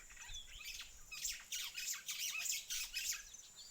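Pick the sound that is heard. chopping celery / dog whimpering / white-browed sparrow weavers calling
white-browed sparrow weavers calling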